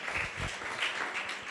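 A church congregation claps for God's glory, a soft, fairly distant patter of many hands that continues through the short moment.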